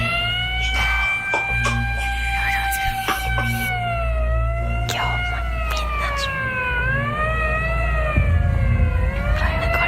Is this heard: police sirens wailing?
yes